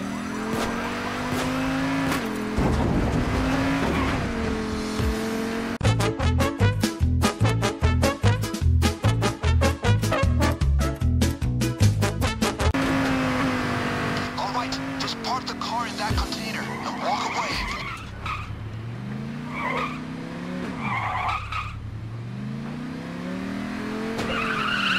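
A car in the game PayDay 2 tearing through Eastern European streets, with a loud engine revving continuously, long tire squeals sweeping up and down, and a rapid, rhythmic stretch of pounding impacts in the middle.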